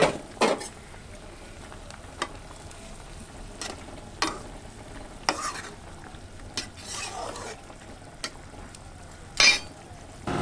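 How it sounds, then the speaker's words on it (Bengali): Pumpkin greens and fish cooking in a pan, with repeated scraping stirs and clinks of a utensil over a low sizzle, close and fairly quiet. "এবার শাকগুলো দিয়ে দেবো, এবার মাছগুলো দিয়ে দেবো।"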